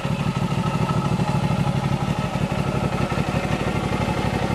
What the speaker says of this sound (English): Not a bad running bike.